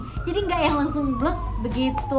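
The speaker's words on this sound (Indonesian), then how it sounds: "Aduh maaf berisik, ada ambulan." An ambulance siren passes outside, its wavering wail rising and falling steadily beneath a person talking close by indoors.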